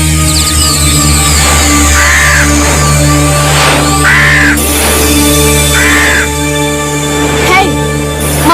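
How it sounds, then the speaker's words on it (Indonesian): A flock of crows caws repeatedly in short harsh bursts about every two seconds, loud and close over a dense, steady background drone in an Indonesian television drama scene. "Ya, itu kumpulan gagaknya."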